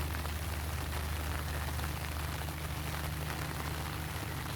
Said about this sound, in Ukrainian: Рясненький йде. Миленький дощичок.